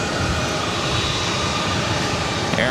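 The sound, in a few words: Boeing 777-300ER jet airliner arriving at Boston Logan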